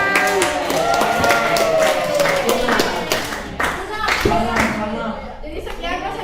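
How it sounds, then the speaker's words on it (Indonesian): A small audience claps hands after a presentation in a quick, uneven burst lasting several seconds, fairly close, with some chatter mixed in. "tepuk tangan"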